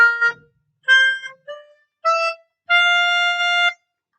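A major scale on F, played as a short run of sustained, clean pitched tones in separate bursts, the final note held longest, with no voices.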